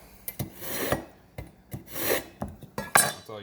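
A kitchen knife is drawn several times across a ceramic sharpening rod, each pass a short close rasping scrape, roughly seven strokes in an uneven rhythm with no talk.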